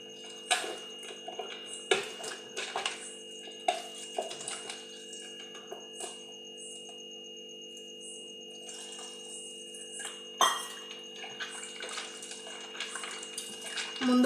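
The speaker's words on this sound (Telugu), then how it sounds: "ఇంకొంచెం నీళ్ళు పోసుకుందాం కలుపుకొని." Water is poured and stirred into tamarind pulp in a bowl while making Konaseema-style fish curry: soft, quiet splashes and light clinking knocks over a steady low hum, with no talking.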